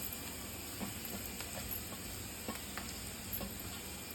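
Rice stir-fried with capsicum in a pan for Schezwan rice, a steady soft sizzle with faint scraping stirs every second or so, close and fairly quiet, no talking.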